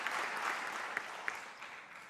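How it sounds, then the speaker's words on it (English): Faint, distant applause from a conference crowd at a closing plenary in Nairobi, a soft steady patter with a couple of sharper claps standing out. "Again, good round of applause for the interpreters."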